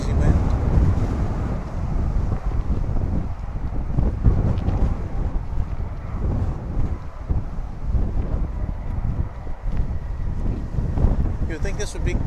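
Strong gusty wind buffets the microphone at a DFW airport runway, a loud continuous low roar that stays steady throughout without clear breaks.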